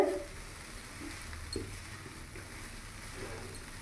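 Cauliflower filling for paratha fries in a pan, giving a soft, continuous low sizzle with faint stirring scrapes, quiet and steady throughout with no talking.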